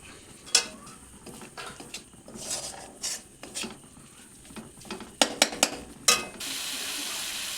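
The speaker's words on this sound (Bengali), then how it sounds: "ধনে গুঁড়োটা দেওয়ার পরে একটু ভালো করে নেড়ে নিতে হবে" Coriander powder stirred into spices frying in oil in a pot, with scattered utensil scrapes and clinks over a low simmer, ending in a steadier rising sizzle.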